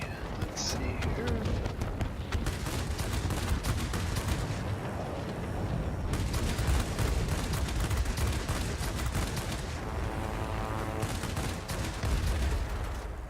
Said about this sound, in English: These cannons really do a number on enemy aircraft.